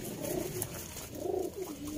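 Pigeons, including Sialkoti and Teddy breeds, coo in soft, rolling, repeated calls at moderate distance, with a faint background hum and no voices.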